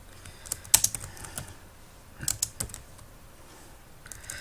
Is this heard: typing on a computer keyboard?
yes